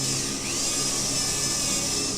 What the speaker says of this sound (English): The drill spun.